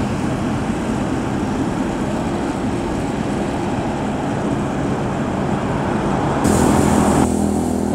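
A Bintang Utara intercity bus from Medan drives along a road into Pekanbaru, Sumatra, its engine and road rumble a steady, close, continuous drone, with a brief mechanical tone near the end.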